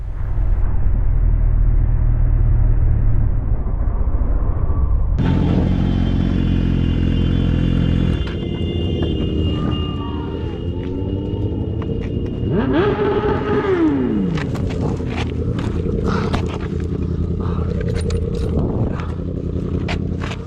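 Motorcycles ride along a road with engines rumbling and revving, then riders brake hard near a patch of dirt, with clattering mechanical noise and scraping as one bike goes down, the engine drone continuing loud and close throughout.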